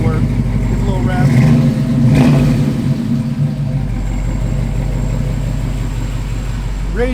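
A 1970 Chevrolet C10 pickup's engine gets a brief rev, rising over a steady low idle rumble and then settling back, with people talking over it throughout.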